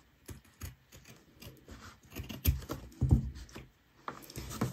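Scissors cut along a curve in a sequence of crisp snips mixed with soft rustling and scraping, close and moderately loud, with no voices.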